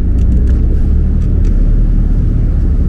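A Porsche 992 GT3 sports car engine roars up close and loud, a dense, continuous low rumble holding steady throughout without pauses or voices.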